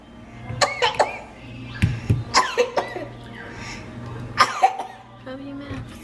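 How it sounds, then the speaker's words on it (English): A young boy coughs several times in short bursts close by, with someone talking between the coughs while she cooks dinner with chicken in a home kitchen. "Ooh, you coughing."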